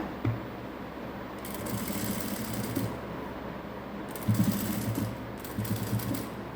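A sewing machine stitches a patchwork blouse with a border, whirring steadily and fairly quietly in continuous bursts with brief pauses, close up and with no talking.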